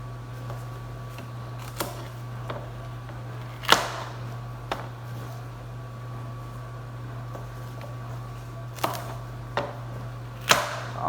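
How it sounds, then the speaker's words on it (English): A knife chops celery and other vegetables in a home kitchen, giving a handful of sparse, crisp taps spaced irregularly over a steady low hum. "All I'm doing is just chopping away."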